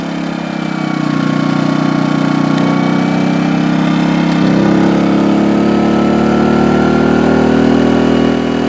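A new portable generator runs under a full 1600 watt load, a loud, steady engine drone with a strong low hum that deepens slightly partway through and continues without pause or speech.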